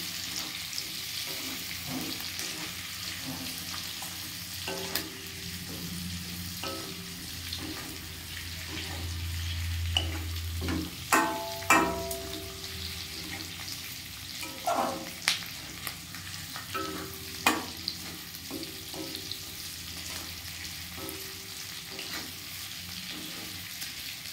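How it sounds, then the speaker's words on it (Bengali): Capsicum frying in a pan for chilli chicken is stirred, with a soft steady sizzle under irregular scraping and clinking strokes that grow more frequent midway, with no one talking. "এইভাবে ক্যাপসিকামগুলো দিয়ে দিলাম। দিয়ে এটাকে ভালো করে নেড়ে চেড়ে নিতে হবে।"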